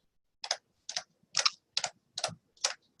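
Scissors snip through poly burlap along marked lines in six crisp, evenly spaced cuts, close and clear against near silence.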